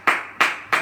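Three loud, evenly spaced claps from a church congregation at a Sunday service, each a sharp burst of many hands together with short pauses between.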